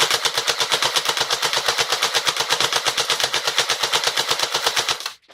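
Double Eagle airsoft rifle, an M85 G36C or M83 M4, firing one long full-automatic burst of rapid, evenly spaced shots at close range with no talk, stopping abruptly near the end.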